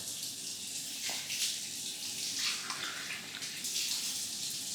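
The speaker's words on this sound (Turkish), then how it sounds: "Nesquik'ini içtikten sonra bardağını yıkıyorum." Tap water runs into a kitchen sink while a glass is washed, a soft, continuous splashing stream with faint clinks, fairly quiet and close.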